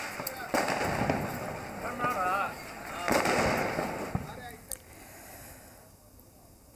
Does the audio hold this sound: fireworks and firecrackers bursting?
yes